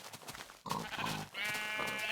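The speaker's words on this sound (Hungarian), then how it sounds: "Ott vannak, csomó bárány, meg ott szürke bárány is." Sheep bleat in a survival video game, a few short wavering bleats, close and clear, over a quiet background.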